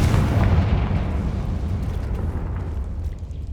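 A blasting spell explodes in Hogwarts Legacy: a heavy, booming detonation hits at the start, then a long rumbling tail with scattered debris crackles slowly fades away.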